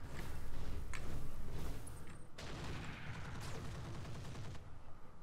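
Gunfire rattles through a Roguetech mech battle, dense overlapping bursts and booms that swell early, then continue as a steady, slightly quieter barrage.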